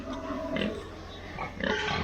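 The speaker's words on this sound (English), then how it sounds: "We are back down here to load another load of pigs this morning." Pigs on a farm being loaded early in the morning, giving a run of grunts and oinks over a constant low rumble of background noise, with a louder squeal toward the end.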